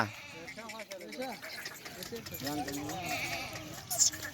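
Several wavering bleats from a large billy goat ring out in a row, close and fairly loud, with people talking and shouting underneath as they try to catch it.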